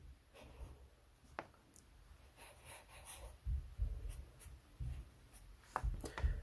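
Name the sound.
writing out conditions by hand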